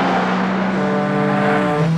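A car in a film chase scene roars steadily at close range, its engine note holding a strong sustained pitch that dips slightly near the end.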